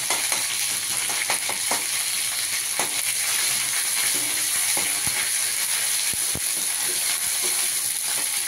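Garlic and ginger sizzle steadily as they are sautéed in a pan for a cauliflower and potato vegetable dish. The frying hiss runs throughout, with a few sharper scrapes and clicks from stirring.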